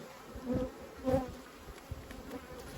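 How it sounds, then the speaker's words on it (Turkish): Honeybees from a Buckfast-type island stock of hives buzz around a beehive, a steady low hum with a couple of louder swells as bees pass close to the microphone. "Belfast arısı her yerde balını yapar"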